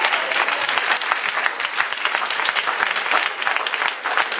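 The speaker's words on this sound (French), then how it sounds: "Mets-toi debout et acclame Jésus bien fort." Church congregation applauding for Jesus, a dense, steady wash of clapping that holds loud and unbroken throughout, with no clear voices standing out.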